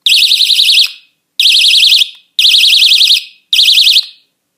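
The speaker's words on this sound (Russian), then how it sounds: "Вот такая сигнализация" A Chinese magnetic door alarm blares four loud, shrill warbling siren bursts, each about a second long, separated by short silent gaps, close to the listener.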